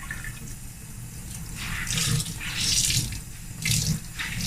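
Tap water runs into a sink while makeup brushes and sponges are rinsed under it, a steady splashing flow with surges of brighter spatter as the items move through the stream.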